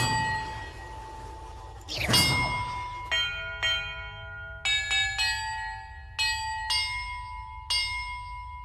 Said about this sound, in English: χτυπάω μια καμπάνα και πάνε δύο μαζί.